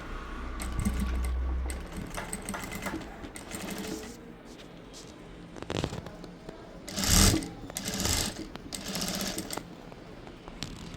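A sewing machine stitches organza fabric near a zip on an umbrella-cut kurti. Close, clattering bursts of rapid stitching start and stop several times, with pauses between runs and no talking.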